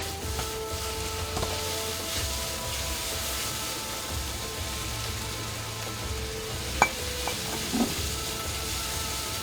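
Beef and green peppers stir-fried in a wok, giving a steady loud sizzle and crackle throughout, with a few sharp clinks of the spatula against the pan near the end.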